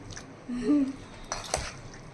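A spoon drags and scrapes through thick, oily mutton pickle in a pot, a short squelching stir followed by a couple of light metallic clinks against the rim, close and fairly quiet.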